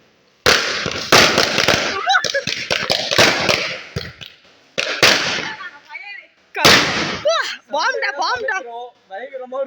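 Firecrackers lit during a family Christmas celebration at home pop and crack close by in rapid bursts, with several loud bangs spread out over time while people shout and talk between the explosions.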